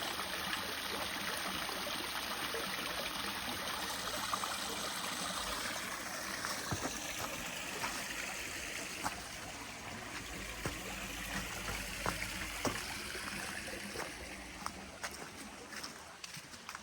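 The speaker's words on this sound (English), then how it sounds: "Another nice little waterfall with a little bit of an echo chamber behind it." A small waterfall in a little valley at a nature preserve, with an echoing hollow behind it, pours as a steady broadband rush of water, continuous and fairly close, with faint scattered knocks but no speech.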